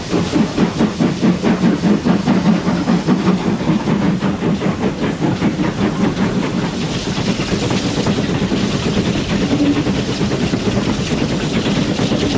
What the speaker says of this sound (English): Here is the train and the engine shed located at Bromley.